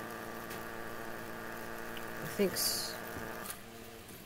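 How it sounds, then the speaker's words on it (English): The cooling fan of an Anet A8 3D printer gives off a steady, rattly whir with a buzzing vibration, running quietly under brief talk. "That's the sound of the fan freaking out."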